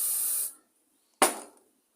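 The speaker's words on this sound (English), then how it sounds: "Put a bit of car spray on it." Aerosol car spray hisses onto a Q-tip during a line trimmer carburetor repair: one sustained half-second spray, a pause of silence, then a second short, sharp burst that quickly fades.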